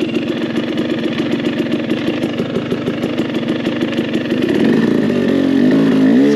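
An enduro motorcycle engine climbs a hill off-road, pulsing in a rapid, steady low-gear rhythm up close before the revs rise into a smoother, louder rising drone.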